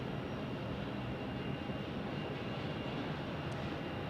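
An Alaska Airlines jet in a special livery at Phoenix Sky Harbor airport gives a steady, even engine roar throughout, moderately distant and unbroken.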